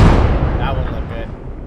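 Heavy artillery gun firing in the military shooter game Squad during a bridge assault, a loud close boom with a long rumbling tail, with a crew member's voice calling out over it.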